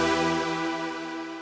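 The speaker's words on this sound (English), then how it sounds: "the final preset that I want to show you is called Synth Oasis, and it's very nice for some big pad swells" A big synth pad swell from a synth preset rings out with heavy reverb, its sustained harmonic tone slowly decaying over a second and a half.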